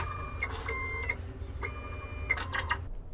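A BioStack plate stacker starts up and initializes with whirring motor runs and mechanical clicks, in short bursts under a steady background hum.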